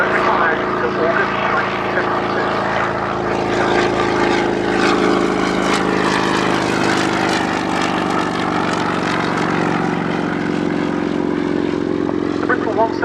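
Bristol 171 Sycamore helicopter flying at the Yeovilton airshow: a steady, fairly loud rotor and engine drone with a faint rhythmic beat, continuing throughout beneath a commentator's voice.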